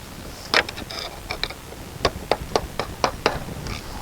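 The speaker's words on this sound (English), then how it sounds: "Let's tap this pin out." Hammer taps knock a pin out of the bucket cylinder on a Komatsu D31 dozer. About a dozen sharp metallic strikes come close up, first scattered and then in a quicker run, with no talk.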